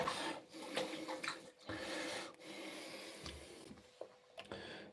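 Scraping, raspy strokes of a razor shaving a head with the grain, close and fairly quiet, in short repeated passes with brief pauses between them.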